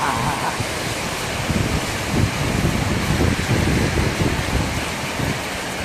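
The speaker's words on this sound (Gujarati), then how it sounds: "વરસાદ ચાલુ થઈ ગયો" Steady broadband hiss of rain, fairly loud and continuous, with gusty rumbling wind buffeting the microphone throughout.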